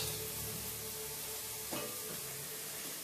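Courgettes sizzling as they go into a hot pan already glazed with cooking juices, a soft steady frying hiss with a brief louder crackle as they land, fairly quiet and without talk.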